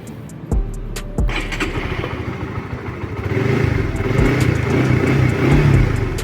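A Honda Supra GTR150Fi motorcycle starts with a couple of sharp clicks, then its engine rumbles and revs steadily louder as the rider pulls away, close to the microphone and with no talking.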